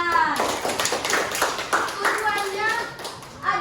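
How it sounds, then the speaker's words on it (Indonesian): Schoolchildren clapping in a classroom, short bursts of hand claps rising and falling, mixed with children's voices talking and calling out throughout. "Tepuk tangan."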